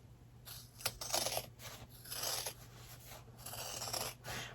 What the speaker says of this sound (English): You need some pretty good scissors to cut through all these layers.